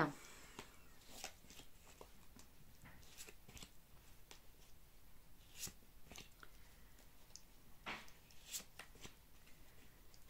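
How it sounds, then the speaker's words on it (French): Tarot-style cards are shuffled and drawn for a reading, producing soft riffling and flicking sounds with sharp card snaps at intervals, quiet and close. "on va tirer 5 petites cartes au niveau sentimental"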